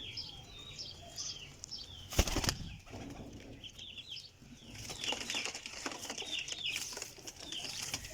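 A Kamgar pigeon bursts into sharp wing flaps, followed by softer fluttering and scattered bird sounds at moderate distance, with no talking.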